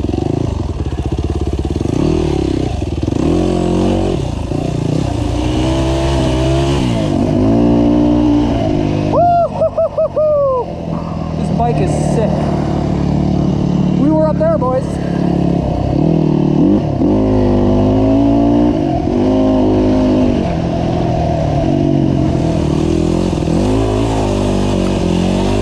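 A GasGas EC250F enduro motorcycle ridden hard off-road, its engine loud and close, revving up and down through gear changes without a break, with a rider's voice shouting briefly over it.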